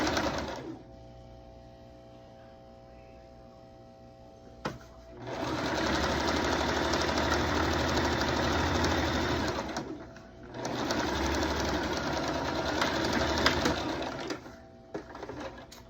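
A sewing machine stitches a half-inch seam along a car seat cover, running in two long steady bursts of close, loud whirring with a short pause between, after a quieter stretch with a faint tone.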